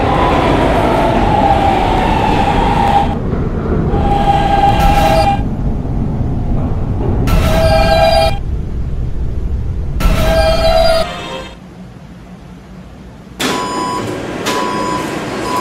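A Roblox video game subway D train sits at a station and then pulls away, with a loud rumbling car interior, repeated door chimes or tones, and the rumble dropping away near the end.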